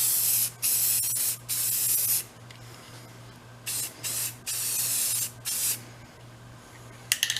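Bursts of spray paint hiss as a red coat goes onto a vintage Snap-on toolbox, several long sprays broken by short pauses, close and loud, with a low steady hum from the compressor running underneath.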